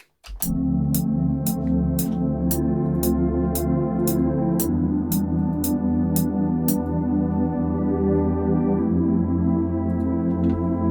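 Sustained synth chords hum over a deep bass line, with a sharp clicking beat ticking steadily through the first part before dropping out.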